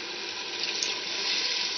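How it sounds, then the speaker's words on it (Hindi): Water pours into sizzling fried masala in a pan while cooking pumpkin dal, making a steady, loud rushing hiss that fills the whole clip without a break. "पानी का डाल देते हैं ताकि मसाला जो है नीचे ना लगे।"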